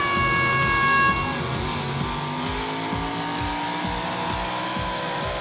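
Diesel pulling truck of about 1,300 horsepower roaring at a truck pull, a loud sustained engine scream with rising whine and tire squeal, plus a steady high tone at the very start.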